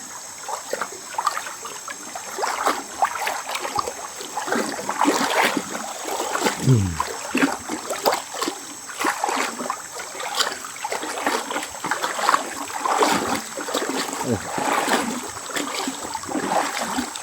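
A person bathes in a river, with steady water splashing, trickling and sloshing close by through the whole stretch and scattered louder splashes. No talking.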